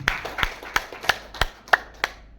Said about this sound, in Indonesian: Sekali lagi kita tepuk tangan.